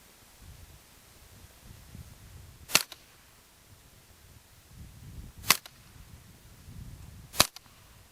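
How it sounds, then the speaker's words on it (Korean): Three sharp, clicky cracks from a K7 submachine gun with a built-in suppressor, spaced a few seconds apart and quite close, each a brief snap over a quiet, faintly rumbling range. "총소리가 꼭 딸깍이는 버튼 소리 같다"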